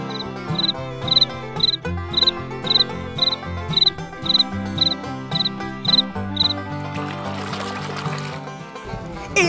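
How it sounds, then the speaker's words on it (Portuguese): A grasshopper chirps in a quick, evenly spaced series of short, bright pulses over background music, then stops as a louder noisy passage takes over at the end. "Esse inseto aqui é o gafanhoto."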